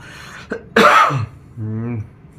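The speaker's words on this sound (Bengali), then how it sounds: "বলতে বলতে আসলে আমার কাশি চলে এসেছে" A person gives a single sharp, close cough, preceded by a brief throat sound and followed by a short hoarse clearing of the throat, loud and dry against a quiet background.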